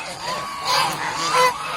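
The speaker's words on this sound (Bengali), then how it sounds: "খুব বড় ছেলে হাঁস" A large male duck at a duck farm gives a couple of nasal honking calls close by over soft background noise.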